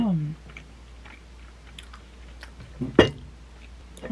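Someone chewing homemade Korean rice cake (tteok), soft sticky mouth sounds and small clicks close to the mic, with brief talk at the start and a louder bite or knock near the middle.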